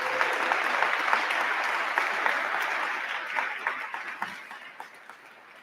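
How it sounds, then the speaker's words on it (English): An audience at a school district Veterans Day program applauds recognized veterans and their families, a dense sustained wave of clapping that thins out into scattered claps toward the end. "Let's give a big round of applause for all our recognized veterans and their families who are among us today"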